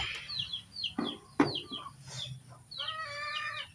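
Backyard pet chickens clucking in a morning yard, several soft clucks and short calls scattered through, with a few louder close bird notes and a longer tonal call toward the end.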